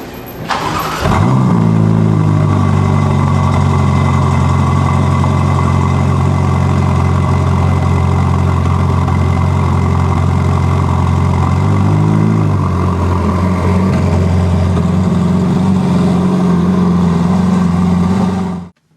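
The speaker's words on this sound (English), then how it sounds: "we are in the Ferrari Portofino. We're going to start it up." A Ferrari Portofino engine cranks and fires up with a sharp rev, then settles into a steady, throaty idle that holds for many seconds before cutting off.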